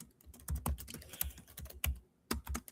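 Typing on a loud, clicky keyboard: close, irregular bursts of sharp key clacks with short pauses between runs, heard alone without talk.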